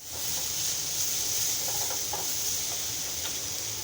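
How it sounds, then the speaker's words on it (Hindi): Minced meat frying lightly in oil in a home kitchen pan, a steady soft sizzle and hiss running throughout at moderate level, with faint scattered pops and no talking. "मैं जो है इसे रोज़ तेल में जो है वो हल्का हल्का सा फ्राई कर रही हूँ"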